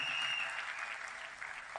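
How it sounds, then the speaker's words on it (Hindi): Steady applause from a crowd, dense clapping filling the whole stretch at a fairly even level without pauses. "हमारे दोस्तों के लिए ज़ोरदार तालियां"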